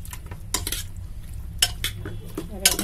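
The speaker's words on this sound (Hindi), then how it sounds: "और अब मैं डालती हूँ कस्तूरी मेथी, सॉरी दोस्तों, और हम इसे अच्छी तरह मिक्स कर लेते हैं।" Utensils scrape and clink against a pan while a turnip and potato curry with dried fenugreek leaves is stirred, a few sharp metallic knocks standing out over a steady low rumble.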